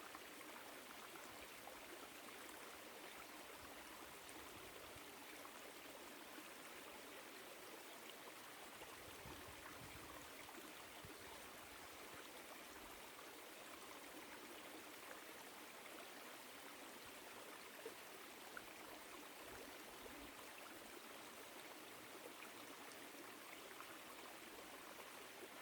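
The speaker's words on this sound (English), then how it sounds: "listen to the sound of the water flowing." A woodland stream in autumn flows and trickles with a steady, soft, continuous wash of water, unbroken and fairly quiet throughout, with no voices.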